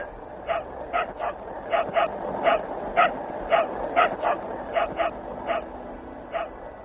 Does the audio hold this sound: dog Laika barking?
yes